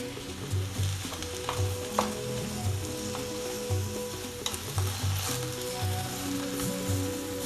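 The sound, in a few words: mushrooms sizzling while being grilled in a pan for egusi soup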